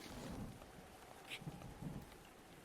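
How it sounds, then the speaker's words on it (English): Steady rain with soft rumbles of thunder in The Legend of Zelda: Breath of the Wild, a continuous wash of rainfall with a brief brighter crackle midway, faint and without speech. "Oh, and did I mention that it's raining?"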